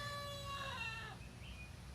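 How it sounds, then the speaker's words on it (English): A small backyard rooster crows outdoors at a distance, a rising and falling call heard faintly over steady low ambient rumble, with no talking. "Here's my little rooster over here."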